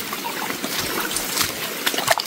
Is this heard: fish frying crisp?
no